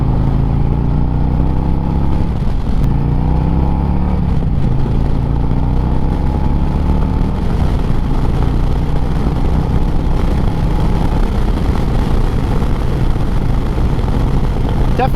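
A 2025 Harley-Davidson Street Glide FLHX touring motorcycle pulling hard under acceleration, a loud continuous engine roar with rising pitch sweeps, heard from the rider's position amid heavy wind noise.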